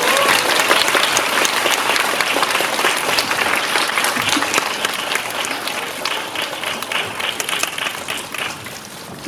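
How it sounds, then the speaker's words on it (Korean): A packed cinema audience claps steadily to welcome a film director and an actress on stage, a dense, loud and even wash of applause that holds for the whole stretch. "큰 박수로 두 분 맞이해주세요."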